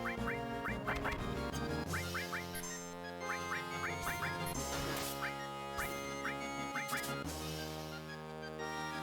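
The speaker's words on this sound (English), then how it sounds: "Chocobo doesn't really sound like birds, but they are birds." Chocobo birds from Final Fantasy VII call in repeated quacking chirps, several quick bursts recurring over a steady bright musical backing.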